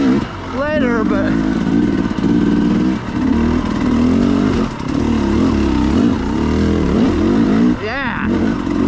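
A carbureted KTM 300XC-W dirt bike fitted with an RK Tek head is ridden at low speed, its two-stroke engine burbling steadily with a couple of brief revs, heard close up from the rider.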